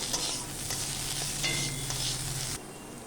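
Potatoes fry with turmeric in a pan while being stirred, giving a steady close sizzle with scraping stir noises that stops abruptly near the end.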